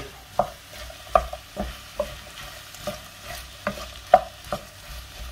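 A spoon stirs sliced garlic into ratatouille vegetables frying in a pan, making a rhythmic series of soft scraping strokes about twice a second over a quiet, low sizzle.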